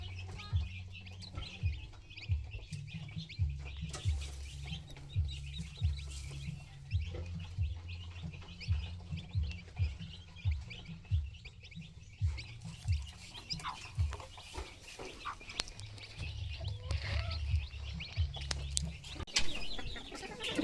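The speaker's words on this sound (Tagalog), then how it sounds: "Sumasali siya sa nangingitlog na manok." Chickens, including laying hens, cluck and murmur repeatedly at close range, with occasional higher bird chirps over a steady low background hum.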